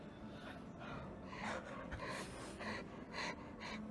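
Heavy, rapid gasping breaths after eating a habanero pepper, close and fairly loud in repeated bursts, with no speech.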